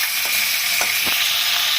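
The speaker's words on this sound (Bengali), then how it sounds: "ফুলকপিটা ভেজে নিই" Cauliflower fries in a pan with a steady, loud hiss of hot oil throughout, broken by a few soft knocks from stirring, and no one speaking.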